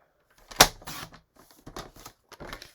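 Cardstock being cut on a paper trimmer, a sharp loud snap followed by several shorter scraping, crunching strokes at uneven intervals, close up with no talking.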